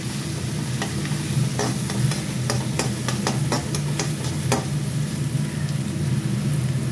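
Onions sizzle loudly and constantly in a hot pan, with sharp scraping clicks from stirring scattered through the middle.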